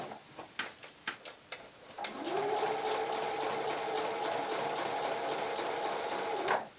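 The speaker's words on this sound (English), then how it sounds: "I'm just going to go straight down this side." A sewing machine stitches steadily along a lapped zip, a continuous close whirring hum with a fast regular needle tick that runs for several seconds, after a few scattered clicks and handling sounds.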